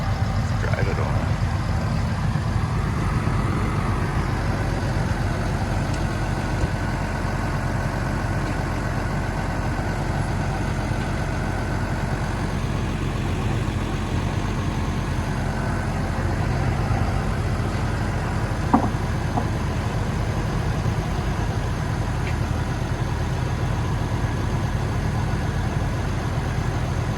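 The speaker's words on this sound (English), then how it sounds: "we'll just drive the truck away" A truck engine runs steadily throughout, a constant low rumble close by with little change in pitch, as if idling or driving slowly while a table is moved on it.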